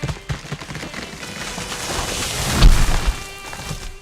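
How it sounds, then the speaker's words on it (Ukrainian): Two tall trees cracking and crashing to the ground: splintering wood snaps build into a loud crunching crash partway through, then settle into fading rustle. "Дерева з гучним тріском впали на землю. Крах!"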